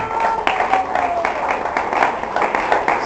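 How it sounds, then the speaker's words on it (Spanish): A church congregation claps in praise during a sermon, a steady burst of hand clapping with a preacher's voice continuing over it. "denle un aplauso al Señor"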